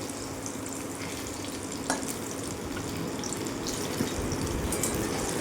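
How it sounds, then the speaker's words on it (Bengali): Eggplant slices frying in hot oil in a pan give a continuous, close sizzle with a few small pops and no voices. "এরকম বেগুনটা আমার ভাজা হয়ে এসেছে এবার আমি বেগুনটা তুলে নেব"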